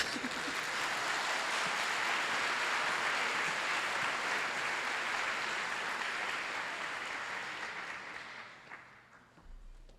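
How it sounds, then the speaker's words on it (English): An audience at a cancer immunology symposium breaks into sustained applause, a dense wash of many hands clapping that holds steady for most of the stretch before tapering off near the end. "I think he deserves a really extra special round of applause"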